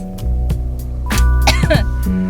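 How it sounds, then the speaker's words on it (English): A few harsh, bursty coughs close to the mic, over a steady low hum and faint background talk. "I have to stop the show because I'm coughing"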